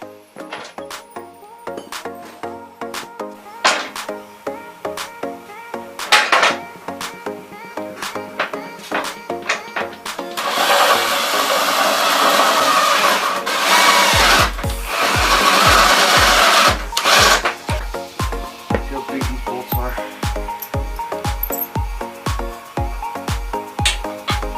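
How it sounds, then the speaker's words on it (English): A power drill bores holes for transmission mounts on a homemade hot rod cruiser build, grinding through metal in loud bursts with a steady rhythmic chatter in the later stretch, heard close with no talk. "we got the bit that we need to use to make the holes for the transmission mounts"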